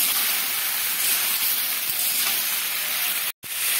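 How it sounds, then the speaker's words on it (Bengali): Potatoes frying in oil over medium-low flame hiss in a loud, dense, continuous sizzle close by, broken by one abrupt cut near the end, with no talking. "এবারে মিডিয়াম টু লো ফ্লেমে রেখে এটাকে আমি নেড়ে নিচ্ছি।"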